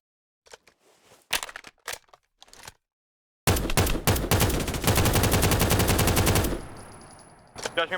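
Rapid automatic gunfire from modded Minecraft rattles against a wall in a dense sustained burst, preceded by a few scattered sharp shots and followed by a fading tail and more clipped shots.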